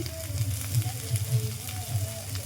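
Ingredients frying in hot oil in a pan, a steady soft sizzle with faint crackles close by, with no break.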